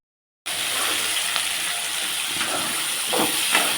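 Green chillies and ridge gourd peel sauté in a hot pan for a chutney, with a steady loud hiss and sizzle starting abruptly and holding throughout, close and without speech.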